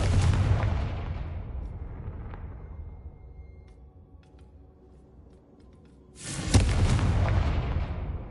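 The Confringo explosion spell in Hogwarts Legacy lets out a loud booming blast that rumbles and fades over several seconds, then a second heavy explosion bursts in near the end.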